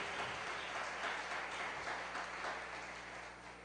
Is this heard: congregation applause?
yes